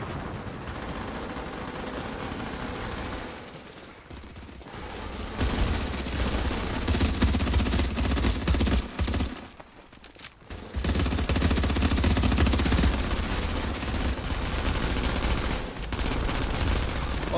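Sustained, dense automatic turret gunfire in a Division player-versus-player Last Stand match on the AlfaBridge map, loud and continuous with two brief drops around mid-burst before the rapid fire resumes.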